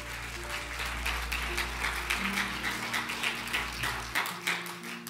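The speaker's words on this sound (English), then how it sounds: "give the Lord another great hand clap of praise" A congregation at a campmeeting worship session claps in praise, a sustained round of hand clapping with faint sustained musical tones beneath.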